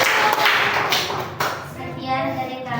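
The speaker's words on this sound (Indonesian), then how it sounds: "Kita kasih aplaus dulu ya." An audience claps at a school supervision session, a dense patter of hands that fades after a couple of seconds, with some voices underneath.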